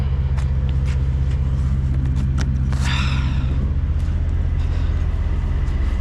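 A truck hauling a loaded trailer of carrots drives along the road, its engine and tyre rumble a steady, close, low drone throughout with a brief rattle midway and no talking.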